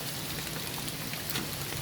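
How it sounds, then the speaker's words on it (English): Steady rain from Tropical Storm Fay hisses down on and around a parked RV near a New Jersey beach, a dense, even wash of drops with no voices. "The rain has slowed down a good bit."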